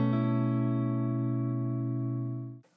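A single neo-soul slash chord strummed on guitar rings out sustained and clear for over two seconds, then is cut off abruptly, with no talking.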